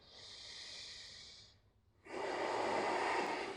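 Deep breaths during a yoga session: a long, airy exhale tails off into a brief pause, then a louder, fuller breath rushes in and holds steady, close and alone.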